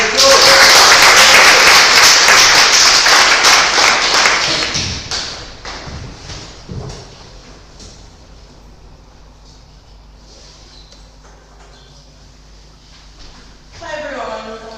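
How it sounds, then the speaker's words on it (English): An audience at a book signing event applauds for Dr. Coco Novak, with loud clapping and thumps at first that fade to a quieter room within a few seconds. "Give her a round of applause."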